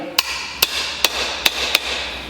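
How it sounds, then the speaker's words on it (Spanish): A hammer taps valve guides into the cylinder head of a Citroen Jumpy 2.0 HDi engine, giving five sharp metallic strikes at an uneven pace over a steady low hum. "cogemos el martillo y con firmeza, sin duda, hacemos lo mismo en la del otro lado"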